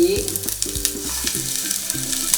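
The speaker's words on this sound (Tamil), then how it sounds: "நல்லா வெங்காயம் வதங்கிடுச்சு. இதுக்கப்புறம் நம்ம புதினாவை சேர்க்கணும்" Onions and mint fry in a pan for ghee rice, a steady close sizzle broken by repeated scraping stirs, with no talking.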